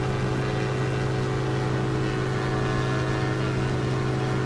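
Twin engines of a Diamond DA-62 aircraft in the X-Plane flight simulator, a steady droning hum with strong tonal whine, constant and loud from start to finish without any speech.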